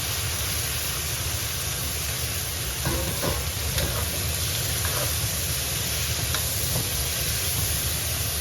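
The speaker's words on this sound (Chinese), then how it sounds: "开大火，我们炒豆角。" Green beans stir-fried over high heat in a wok with minced garlic: a steady, even sizzle runs throughout, with a few faint stirring scrapes and clicks now and then and no talking.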